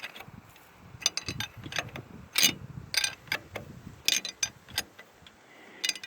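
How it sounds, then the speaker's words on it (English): A drop angle wrench working on the engine block of an old, long-abandoned Fordson Major tractor, giving quiet, close, irregular metallic clicks and clanks with short bursts of ratcheting. "But this drop angle wrench fits."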